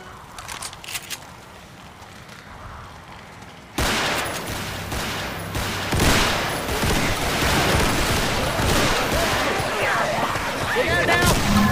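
Heavy gunfire in Left 4 Dead 2 during a competitive Confogl tournament match: dense, continuous bursts of shots and combat noise that jump suddenly from a quieter start and stay loud, with players talking over the top.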